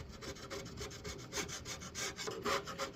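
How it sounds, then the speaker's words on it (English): A chisel scraping across the wood of an entryway table, steady rhythmic rasping strokes, close and fairly quiet, with no voices. "But I really do like the chisel."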